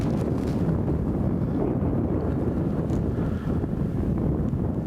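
Strong wind on a golf course buffets the microphone in a continuous low roar, loud and close, with no voices.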